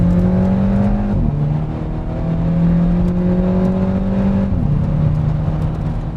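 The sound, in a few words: Volkswagen Scirocco 2-litre engine revving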